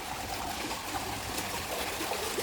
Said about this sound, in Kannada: ಇದು ಕೆರೆ ನೀರು ತುಂಬಿ ಹೊರಗಡೆ ಹೋಗ್ತಾ ಇರೋದು.